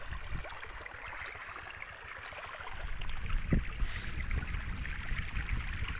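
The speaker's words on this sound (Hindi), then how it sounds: "तो हवा काफ़ी तेज़ चल रही है," Strong wind gusting across a flooded rice field, a steady rushing roar of buffeting air that swells slightly midway, with no voices.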